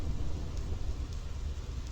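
A steady, low hiss of rain with a rumbling thunderstorm underneath, heard in the Final Fantasy X game, constant and fairly quiet with no distinct thunderclap.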